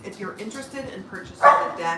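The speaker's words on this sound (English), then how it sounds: "If you do hear some barking, my dog, she's excited." An excited pet dog gives a sharp bark near the end, heard beneath someone talking.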